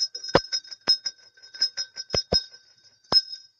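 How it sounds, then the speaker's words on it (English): A hand bell rings in a quick, uneven series of about eight bright, sharp dings, each decaying fast, close and loud against near silence. "Willie, you want to hear my bell?"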